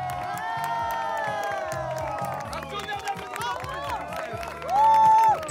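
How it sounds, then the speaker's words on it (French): A crowd at a mock bronze-medal ceremony cheers, shouts and whoops with scattered clapping, voices rising and falling in pitch, and a louder shout near the end. "Faites un tonnerre d'applaudissements."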